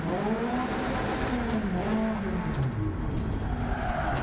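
Rally car in the Dirt 2 racing game slides under the handbrake, a loud revving engine with gear whine and skidding tires, continuous and close.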